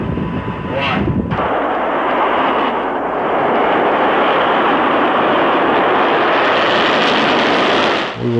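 A missile lifts off from Vandenberg, a loud sustained roar that swells in and rumbles steadily across the whole stretch, with a brief sharp burst near the start.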